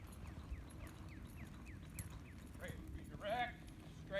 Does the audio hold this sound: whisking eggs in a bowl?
no